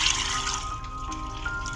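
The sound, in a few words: water pouring into a kettle in a video game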